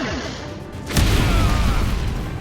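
A sudden booming explosion in a Star Wars scene erupts after a moment of quiet hiss, then rumbles on with a loud, rolling low tail that slowly fades.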